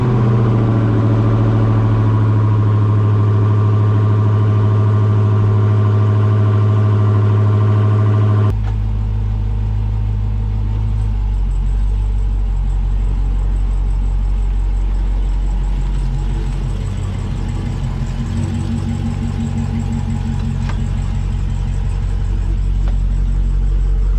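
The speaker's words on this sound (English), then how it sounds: "So we're gonna start the car, but it hasn't been started in 2 days" 2020 Dodge Charger Daytona Hellcat Widebody, not run for two days, cranks and fires with a sudden loud roar, then settles into a deep, steady, rumbling idle that stays close and loud to the end.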